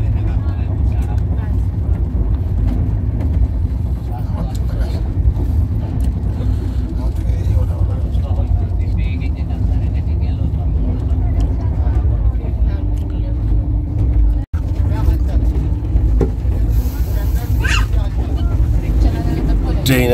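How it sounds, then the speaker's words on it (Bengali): Steady low rumble of the Rajdhani Express 2AC coach running on the New Delhi to Sealdah route near Dakshineswar, a continuous loud rolling drone with people talking over it and a brief dropout partway through. "ট্রেন এখন দক্ষিণেশ্বর আসছে"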